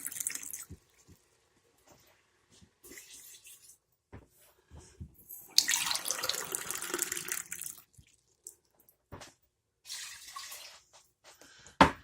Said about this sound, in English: So now we're going to add 2 cups of water to this.